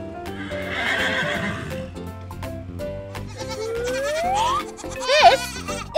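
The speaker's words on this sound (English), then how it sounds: "This is a horse, and horses go neigh." A horse gives a clear whinny amid a cartoon farm scene, with hoof clip-clops and playful music around it, and a goat-like bleat joins near the end.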